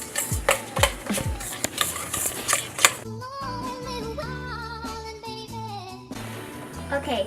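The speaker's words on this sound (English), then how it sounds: "you just want to stir it till all the butter and sugar is incorporated together" A spoon stirs butter and sugar together in a mixing bowl for cookie dough, making a quick run of scraping, knocking strokes before steadier musical tones take over.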